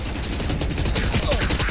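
Rapid gunfire in the Valorant game comes as a fast burst of sharp, evenly spaced shots that runs nonstop for under two seconds, fairly loud with no clear talking.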